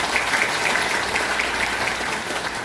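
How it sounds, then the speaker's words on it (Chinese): Audience applause thanking regional leaders at a Taiwan Soka Association gathering, a steady wash of clapping lasting a few seconds with no speech over it. "我们再次掌声感谢地区部长以及地区副任部长的支持"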